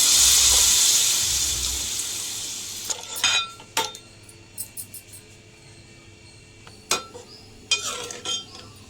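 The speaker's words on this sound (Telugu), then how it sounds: "ఇప్పుడు దీనిలో గ్రేవీకి సరిపడా వాటర్ అయితే వేసుకుందాం" Water poured into chicken kofta curry gravy in a brief loud rush at the start, followed by clinks and scrapes of a spoon stirring the pan.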